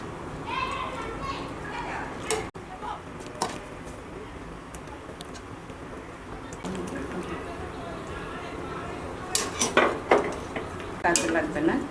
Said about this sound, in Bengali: এখন আমি মাংসগুলো উঠে নেব।